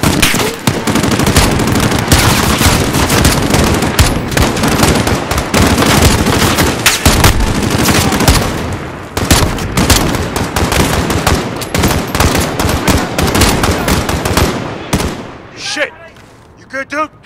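Dense, loud Call of Duty gunfire in a firefight at an embassy, with continuous automatic bursts and explosions that thin out near the end, and shouted voices mixed in.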